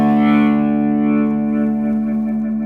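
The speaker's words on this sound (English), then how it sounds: "That's how Leslie effect should work." Leslie rotary speaker effect from a Line 6 Pod guitar modeler on a sustained guitar chord, with a swirling, warbling modulation that quickens as the chord rings out, loud and alone.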